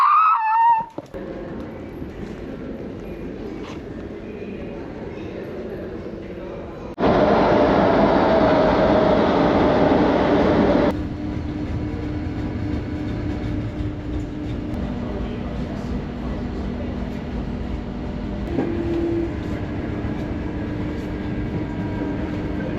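Interior rumble of riding on a train, a steady low rolling drone with a louder stretch midway, continuous and close throughout.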